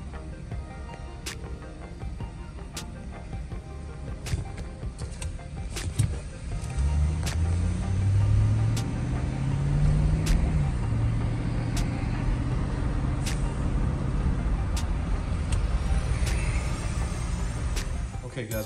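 A car driving at night gives a steady low road and engine rumble that swells into a louder tonal drone partway through, with sharp faint clicks scattered on top.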